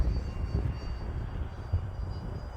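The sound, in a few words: Freewing MiG-15 64mm EDF RC jet flying in strong wind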